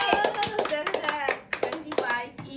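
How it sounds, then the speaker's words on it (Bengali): A group claps hands together in a lively, uneven burst of sharp slaps during a children's game, close by, with voices of children and adults mixed in. "হাততালি হোক, হাততালি হোক।"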